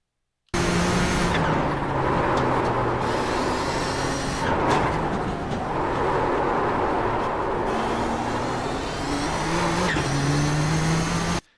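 Nissan GTP ZX-T race car in iRacing at Zandvoort, its engine held at full throttle through a corner section, a loud continuous roar with shifting pitch and brief dips, with no talk.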